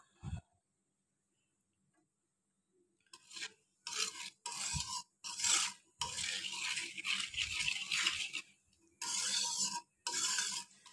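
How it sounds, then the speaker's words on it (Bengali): Whole cumin seeds hit hot oil in a wok while cooking an egg and potato bhuna. Near-silence gives way to loud bursts of sizzling and stirring that start and stop in uneven spurts. "এখন আমি এতে সামান্য কাঁচা জিরার ফোড়ন দিয়ে দিলাম।"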